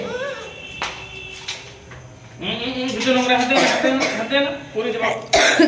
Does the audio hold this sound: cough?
yes